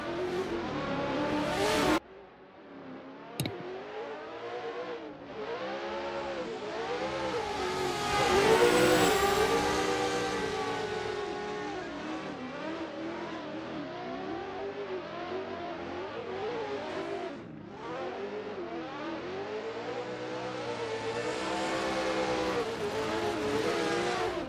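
Several drift cars cruise a victory lap at an Odaiba pop-up drift event, engines revving and surging in overlapping waves with harmonic sweeps, a sharp burst near the start, continuous and fairly loud throughout.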